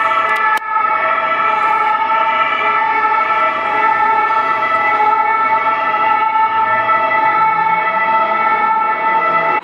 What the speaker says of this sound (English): 2 police motorcycles and an ambulance just came by.